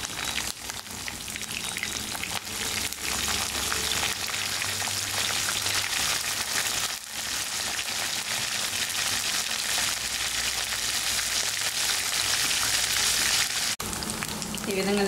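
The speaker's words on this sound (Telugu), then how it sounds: "ఈ విధంగా నెత్తలు వేసుకున్నాక వీటిని 1-2 నిమిషాల పాటు ఈ విధంగానే ఆయిల్లో వేగనివ్వాలి." Washed dried fish sizzling in hot oil with curry leaves, a dense crackling fry that runs steady and fairly loud throughout, with a few brief clanks and no talk.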